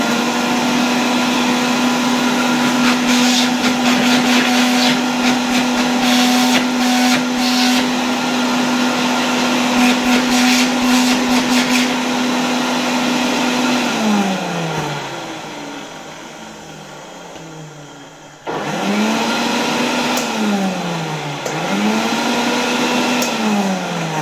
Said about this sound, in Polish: chciałbym zrobić test odkurzacza, to czego nie robiliśmy ostatnim razem, i po prostu go podłączyć